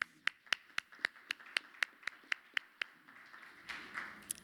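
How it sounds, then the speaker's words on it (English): Steady single hand claps at a housing policy convening, about a dozen evenly spaced sharp claps, fairly close and alone, thinning into softer scattered clapping at the end. "let's give him also an applause"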